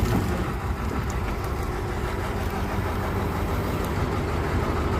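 A 2000 Deere 400C articulated dump truck with its diesel engine running, a steady close rumble holding even throughout with no speech.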